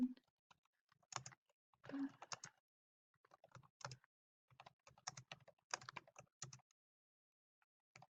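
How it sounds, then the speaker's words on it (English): Names being typed on a computer keyboard: faint, irregular clusters of light keystroke clicks separated by short pauses, in an otherwise quiet room. "I'm going to type in some names here"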